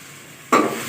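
Spice masala with turmeric and dry coriander fries in a pan, a sudden loud burst of close sizzling and stirring that starts after quiet and settles into a steady hiss.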